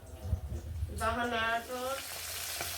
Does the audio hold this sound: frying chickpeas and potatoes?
yes